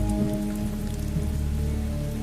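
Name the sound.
heavy rain at night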